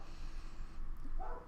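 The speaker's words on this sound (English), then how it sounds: "Sorry if you can hear my dog in the background" A pet dog indoors gives a single short bark a room away, faint over a steady background hiss, with no talking.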